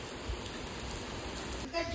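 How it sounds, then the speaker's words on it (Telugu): Heavy rain pours down in a steady, dense hiss that holds level throughout, swelling briefly just before the end. "చాలా గట్టిగా పడుతుంది వర్షం అయితే"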